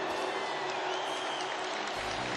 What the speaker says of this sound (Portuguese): Pode aplaudir a ressurreição de Cristo.